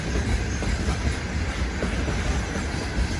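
A long Russian freight train rolls past nearby, its steady rumble and rolling clatter of wheels on rail filling the whole stretch without a break, with no voices.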